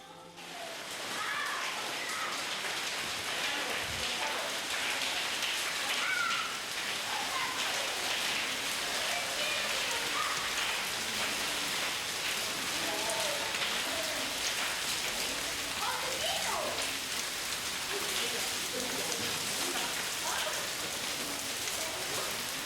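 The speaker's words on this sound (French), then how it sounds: "Il pleut sur Grenade." Steady rain falls over Granada in Andalusia, a dense continuous patter of drops on surfaces that holds even and close for the whole stretch, with no voices.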